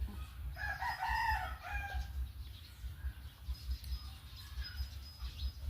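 A rooster crows once at a moderate distance, a drawn-out cock-a-doodle-doo over quiet outdoor ambience with low rumble, followed by faint, scattered high bird chirps.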